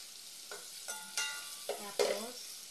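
A spoon stirs sardine soup with udon in a pan, giving four or five short scraping strokes with faint sizzle between them, close and quiet, with no talk.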